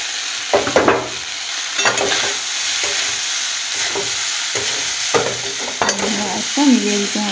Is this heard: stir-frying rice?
yes